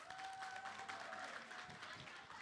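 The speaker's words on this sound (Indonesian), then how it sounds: "Beri tepuk tangan untuk Hafiz." An indoor audience at an educational class applauds for a participant, producing a brief, even burst of many hands clapping at moderate distance, fairly faint with a tone ringing underneath.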